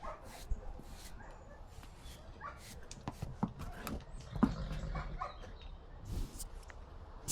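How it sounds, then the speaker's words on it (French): Several dogs bark and yip from a neighbouring dog kennel, sharp irregular barks at varying distances, some near and loud, others farther off, with occasional whimpers between them. "mon chien, il aboie parce qu'à côté, il y a une pension canine et on entend tous les chiens aboyer aussi"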